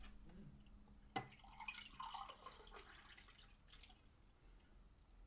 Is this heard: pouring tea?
yes